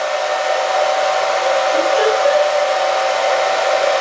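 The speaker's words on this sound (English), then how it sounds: "And then I just like to blow dry it on low until my hands get hot." A hair dryer running on low to warm wax held in the palms, a steady, close airy blowing hum that stays even throughout with no talk.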